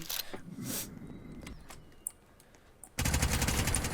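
Bursts of rapid gunfire crackle in short volleys in the Roblox game Jailbreak, then a loud sustained stretch of automatic fire breaks in near the end.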